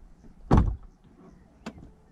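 An Audi A6 3.0 TDI door thuds shut with a soft, muffled closing, followed about a second later by a quieter mechanical click as the soft-close latch draws in.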